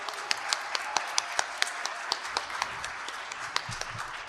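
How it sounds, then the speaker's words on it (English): An audience claps steadily for the staff of a poetry event, with sharp individual hand claps standing out from a sustained round of applause, fairly close and without talk. "join me in another big round of applause to the whole staff of the Poetry Project"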